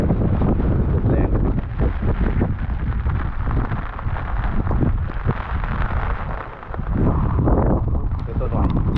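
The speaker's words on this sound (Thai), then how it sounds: "ลมแรง" Strong wind from a heavy tropical storm buffets the microphone outdoors by a stream where fishing is underway, a loud continuous roaring rumble with gusts.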